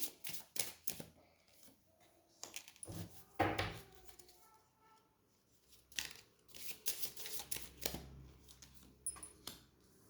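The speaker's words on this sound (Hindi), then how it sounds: "मैं कार्ड्स पहले निकाल लेती हूँ" Tarot cards being shuffled and drawn make soft, close papery riffles, flicks and taps in irregular bursts with quiet pauses between.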